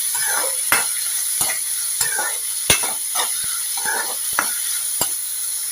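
Tomato and jaggery being stirred into bitter gourd curry in a sizzling pan, steady frying hiss with regular spoon scrapes and sharp knocks against the pan about every second.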